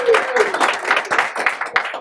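Audience applause at a commercial real estate talk, a dense continuous patter of many hands clapping at moderate distance, steady for the whole stretch without speech on top.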